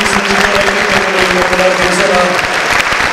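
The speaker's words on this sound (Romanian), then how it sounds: "Aplauze pentru toți" Audience applauding at a Romanian folk music celebration event, steady dense clapping throughout, with a presenter speaking over it.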